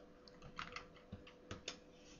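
Quiet, close typing on a computer keyboard as a search is entered, a short run of irregular light key clicks with brief pauses between them.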